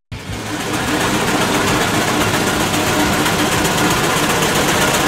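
A Ruston Procter & Company steam engine runs in a loud, steady mechanical chatter that fades in quickly and then holds constant with a dense, rapid rhythmic clatter.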